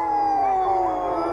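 Iditarod sled dogs at a large racing kennel howl together in a sustained, wavering chorus of long tones, loud and continuous throughout.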